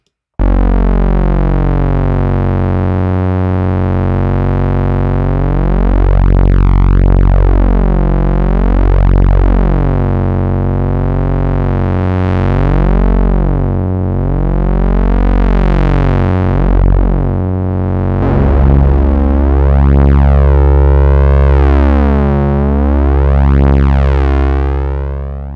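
A single sustained note from a Synapse Audio Obsession software synthesizer with its organic setting on, loud and buzzy, its harmonics slowly wavering and shifting in timbre throughout, playing alone without any talking.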